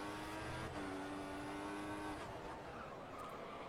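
Williams F1 car in a racing video game at the Spanish circuit, engine whining with a high tonal pitch that holds, then drops as the car lifts off, with tyre scrub underneath, faint and mixed low.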